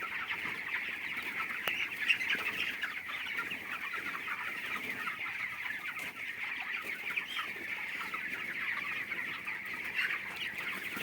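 Chickens cluck in a dense, steady chorus on a poultry farm, a continuous flock murmur with occasional wing flaps, fairly near and alone.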